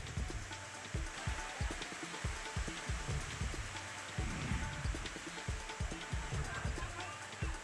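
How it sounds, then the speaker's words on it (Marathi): A heavy downpour over Manora town in Washim district, a constant hiss with dense, rapid drop impacts and low thuds throughout, fairly faint and with no voices. "वाशिममधल्या मानोरा शहरासह बेलोरा, विठोली परिसरामध्ये मुसळधार पाऊस पडलाय."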